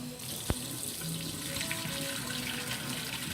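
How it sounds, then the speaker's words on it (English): Steady tap water running into a sink while mushrooms are rinsed, a close, constant splashing hiss with one sharp click near the start. "I'm gonna give them one more rinse to make sure we got all that debris, dirt out of the gills"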